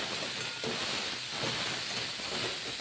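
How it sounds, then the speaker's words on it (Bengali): Sugar sizzling and frying in hot oil in a pan while being stirred, a steady faint hiss with no talking. "আর এখন এর মধ্যে দিয়ে দিলাম অল্প একটু চিনি এইভাবে ভালো করে একটু তেলের সঙ্গে কষিয়ে নিচ্ছি"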